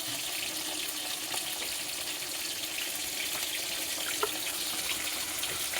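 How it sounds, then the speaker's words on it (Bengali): Water poured into spice masala while cooking a Bengali methi rui fish curry, a steady close splashing trickle under a constant hiss, with no talk. "দেখুন এখানে মশলায় একটু জল দিয়ে দেবো আমি।"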